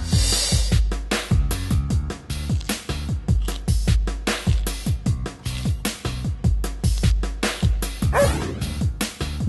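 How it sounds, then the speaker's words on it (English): A dog barks continuously in rapid, loud, close yips and woofs, a busy rhythmic string of barks with a few whimpering notes and no pause. "D for dog."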